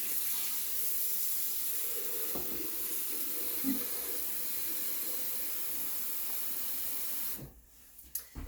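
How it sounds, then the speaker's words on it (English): Water pours into a blender jar in a steady, close hiss for about seven seconds, then stops abruptly, followed by a few faint clicks. "So we're going to fill it up with 3 cups of water."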